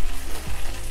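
Chicken wings stir-fried in a wok with fermented red bean curd, a steady close sizzle with brief scraping stirs, loud and continuous without talk.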